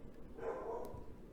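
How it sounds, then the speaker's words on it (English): A dog barks indoors, a single short bark in the middle of a quiet room, moderately near and not loud. "Shyla has to bark because we can't have a vlog without Shyla barking"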